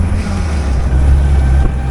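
A 1956 Willys CJ5 jeep with a rebuilt engine drives along backroads, a loud, steady low engine rumble mixed with wind buffeting the microphone.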